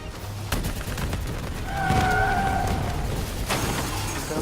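Video game gunfire in Call of Duty Black Ops 3, a sustained fusillade of rapid shots with sharp cracks and a whining tone, loud and continuous, without speech.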